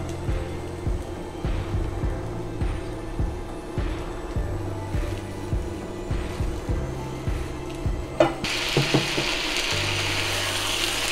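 Cooked red kidney beans tipped into a hot pan of vegetables: repeated thuds and scraping stirs over a low frying background, then a sudden brighter, sustained sizzle as the beans hit the oil, close and without talk.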